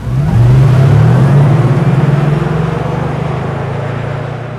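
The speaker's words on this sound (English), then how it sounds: "the very emotional G-Class specific driving sound for this all-electric model" The artificial driving sound of an all-electric Mercedes G-Class SUV, a smooth synthetic engine-like hum that rises in pitch and then holds steady, close and fairly loud, with no talking.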